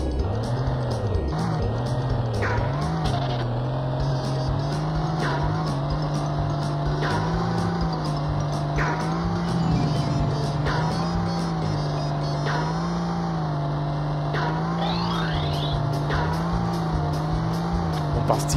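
Engines drone continuously from racing cars in the Wacky Races video game, with pitch rising and falling as they speed up, steady and loud throughout, with occasional sharp tire squeals and no talking.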